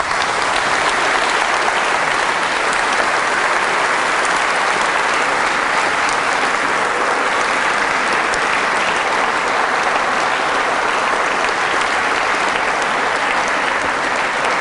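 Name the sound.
audience applause after seminar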